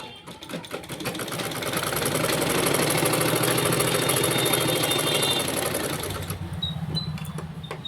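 A sewing machine stitches a blouse sleeve with a steady, fast mechanical whirr and rattling clatter that runs for several seconds, then slows and quiets at the end.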